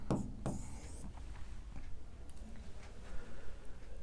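Marker or chalk scratching across a classroom board in a short burst of strokes with a few taps, then quieter rubbing, close and moderately soft.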